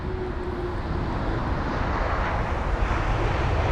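A Bulgaria Air Airbus A220 jet lands at London Heathrow on a windy day, a broad, steady engine roar mixed with wind buffeting on the microphone.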